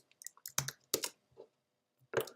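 A computer keyboard is tapped in a short run of sharp, close clicks with small gaps between them. The clip ends with a final burst of keystrokes and has no talking.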